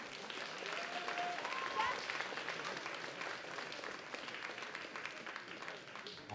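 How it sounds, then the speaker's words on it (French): Audience applause at a cosplay contest: steady, dense clapping from a crowd lasting throughout, with voices faintly mixed in underneath. "On les applaudit encore une fois."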